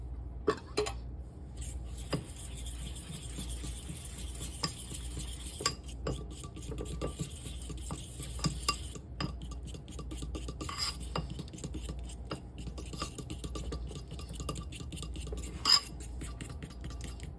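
A spoon stirs melted milk, coconut oil and powdered sugar into a glaze in a bowl, with soft repeated scraping and light clinks of utensil against dish throughout.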